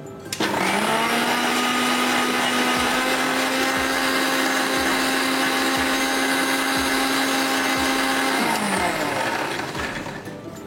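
An electric blender whirs loudly and steadily, blending a mojito mixture with sugar, with its motor spinning up, holding a constant high-pitched roar for several seconds, then winding down.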